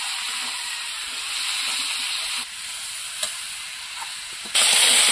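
Vegetables with salt and turmeric sauté in a pan with a loud, steady, hissing sizzle, close up. A short stirring clatter comes midway, and the sizzle swells sharply near the end, with no talk.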